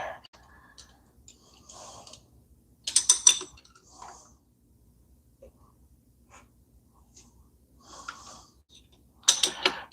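A wrench works on a Harley-Davidson 883 motorcycle during clutch basket and bearing maintenance in a shop. It gives off sparse metallic ratcheting and clicking bursts separated by near-silent gaps.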